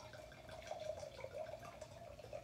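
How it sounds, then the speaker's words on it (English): Red blend wine from Belvino poured into a glass, a faint, steady trickling liquid stream that runs throughout at low level, with no talking. "I'm going to pour a glass of wine."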